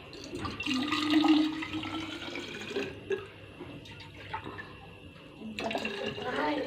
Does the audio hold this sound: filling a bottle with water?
yes